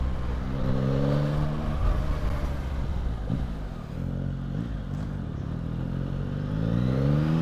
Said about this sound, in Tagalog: Sana napipick up din ng microphone natin yung engine sound